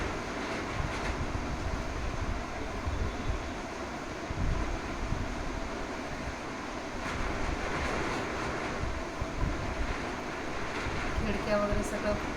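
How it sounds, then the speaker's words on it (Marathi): Heavy rain and strong wind outside closed windows make a steady, muffled roar that stays dense and unbroken throughout. "खिडक्या वगैरे सगळं बंद आहे, तरीसुद्धा पावसाचा आवाज खूप येत आहे."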